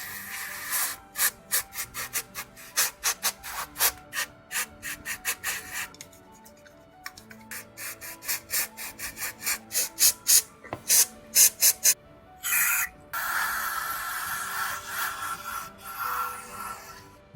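Yamaha XTZ 125 carburetor parts being cleaned, with repeated rhythmic rubbing and scrubbing strokes, close and steady, ending in a longer continuous hiss like a spray.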